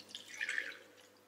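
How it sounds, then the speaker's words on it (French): Fish stock (fumet de poisson) is poured over fish in a kitchen, making a soft, brief trickle and splash of liquid that is faint and near. "Fumet de poisson, c'est un bouillon d'arête de poisson qu'on va venir verser comme ceci"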